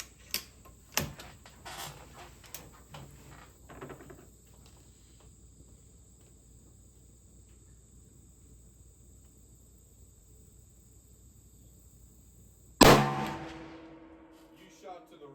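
A single loud rifle shot from a .444 Marlin cracks out near the end and rings down, after a quiet stretch of crickets and faint outdoor ticks and clicks.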